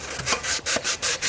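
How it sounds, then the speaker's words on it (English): Sandpaper rubbing back and forth over a cooling tin from a 1972 VW Super Beetle, about seven steady, close strokes in an even rhythm, each a loud gritty swish with brief gaps between. "it has to be sanded"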